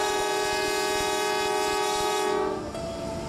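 A train bound for Machu Picchu, Peru, sounds a loud sustained horn over rolling rail noise, the horn cutting off after a few seconds while the train's rumble continues.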